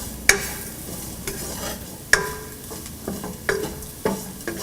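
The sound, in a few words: sautéing spices for garlic pickle in a pan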